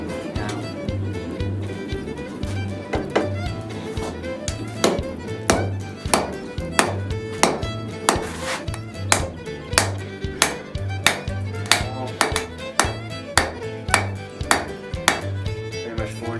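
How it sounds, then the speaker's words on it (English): A hammer strikes a heated steel blade on an anvil while its point is forged, giving a long series of bright metallic blows in an uneven rhythm over a steady low droning hum. "you heat it up, obviously, and then I will hammer it like this to make the point"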